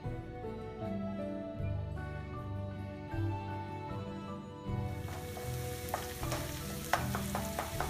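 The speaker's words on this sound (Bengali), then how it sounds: "ডিমটা যখন ভাজা হয়ে যাবে তখন সবজির সাথে মিলিয়ে দিব" An egg sizzles and fries in a pan with vegetables pushed to the side for vegetable macaroni, a steady crackling hiss joined by occasional stirring scrapes and louder spatters near the end, with no talking.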